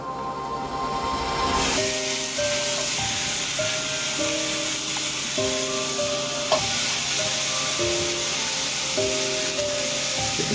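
Sugar-sprinkled lemon slices sizzle steadily in a hot pan, a loud, close, continuous hiss under a background of soft melodic music, with no talking.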